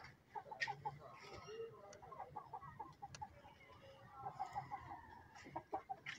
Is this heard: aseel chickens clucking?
yes